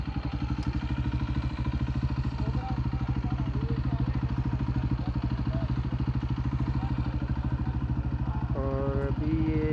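A motorcycle rides through a stream near the Sialkot area of the India–Pakistan border, its engine thumping in a steady, rapid rhythm close by, loud and continuous, with brief faint voices near the end.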